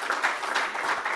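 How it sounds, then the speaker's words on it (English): A conference audience gives a short burst of applause for a panelist, a soft, even patter of many hands clapping at a distance. "So this time we applaud for our panelist."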